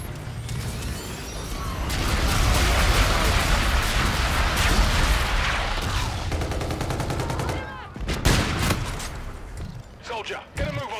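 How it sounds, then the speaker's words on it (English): Enemy artillery bombardment in a first-person shooter: dense rumbling explosions and rapid gunfire pile up loudly over several seconds, then thin into scattered sharp blasts, with game voices calling out in between. "Enemy bombardment incoming."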